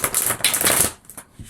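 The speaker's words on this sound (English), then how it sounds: "Let's give these a little shuffle." Tarot deck being shuffled by hand at a reading, a dense flurry of crisp card riffles and slaps close to the mic for about a second before tapering into a few softer taps.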